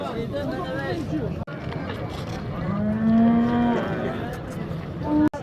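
Calves at a livestock market moo loudly, one long drawn-out call standing out over a background of crowd chatter and people talking nearby.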